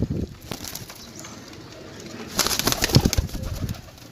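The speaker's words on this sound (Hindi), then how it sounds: "अच्छे कबूतर हैं" Pigeons cooing at close range among a flock kept for sale, soft throaty coos that grow busier and louder in the second half, with faint rustling and a brief wing flutter.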